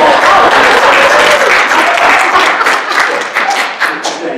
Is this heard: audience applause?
yes